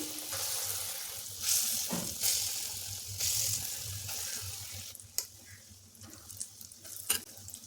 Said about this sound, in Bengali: এখন কড়াইয়ে সর্ষের তেল গরম করে ফেটিয়ে নেওয়া যে বাকি ডালটা ছিল সেটা দিয়ে বড়া ভেজে নিচ্ছি।